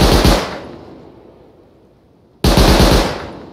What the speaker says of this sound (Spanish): Es que te disparan mucho a la vez.